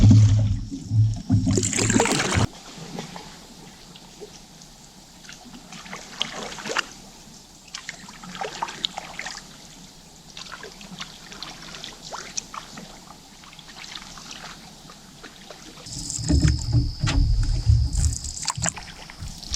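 A boat paddled across water in the dark gives soft, repeated dips and trickles of water, with louder splashing bursts at the start and near the end.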